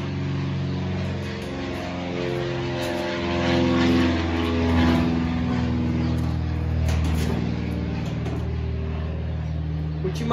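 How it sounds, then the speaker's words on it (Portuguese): A propeller airplane flying overhead, heard as a steady, droning engine hum with layered tones that swells and fades slightly over about ten seconds, with no speech. "tá uma passação de avião que tá dando medo"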